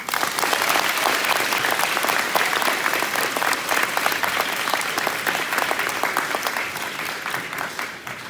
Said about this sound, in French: applaudissez-les comme il se doit